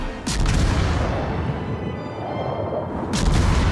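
Heavy naval guns fire in World of Warships. A loud opening boom and a sustained rumble are followed by another sharp blast near the end.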